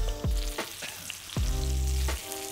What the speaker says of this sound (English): I'm just gonna set it on the direct heat, searing it off in all of that gorgeous butter